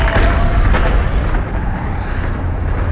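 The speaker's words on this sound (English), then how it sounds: "Tane thrust his father up into the heavens, causing an almighty explosion that resounded across the cosmos" A loud, sustained explosion sound effect, a deep rumbling boom that stays heavy from start to finish and eases only slightly toward the end, with no voice over it.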